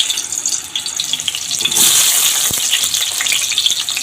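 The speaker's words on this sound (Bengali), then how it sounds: "কড়াইতে আমি আরও কিছু পরিমাণে তেল দিয়ে দিচ্ছি মাংসের আলুগুলো ভাজার জন্য।" Potatoes sizzling in hot oil in a wok, a steady loud frying hiss that swells midway with a brief clatter, no talking.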